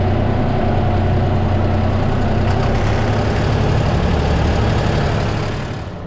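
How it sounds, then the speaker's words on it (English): A backhoe's diesel engine idles nearby with a loud, steady low rumble and throb that holds evenly before easing off at the end. "Alright, we got the backhoe on."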